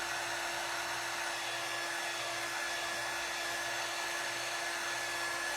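A hair dryer blows steadily at close range to dry paint on a floral flag door round, a loud constant whooshing hum with a steady motor whine.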